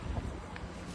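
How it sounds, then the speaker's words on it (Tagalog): Strong wind roaring across snowy mountain terrain with falling snow, a continuous close blustery rush buffeting the microphone for the whole moment, with no voices over it. "Malakas pa yung hangin."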